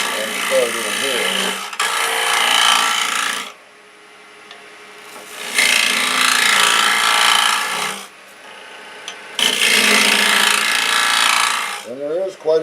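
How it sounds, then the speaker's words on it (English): A hand scraper cuts into the corner of a spinning wooden bowl on a lathe, giving loud rasping bursts in three long passes separated by quieter gaps, with brief voice-like sounds at the edges. "So to get the corners of the bowl, I come clear around here with my scraper and start in here."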